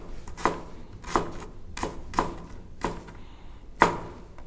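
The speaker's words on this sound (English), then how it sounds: "This is rough chopping." A knife rough-chops vegetables on a cutting board in a cooking lesson, giving six or so evenly spaced, crisp thuds at a steady rhythm, close and fairly quiet with no talking.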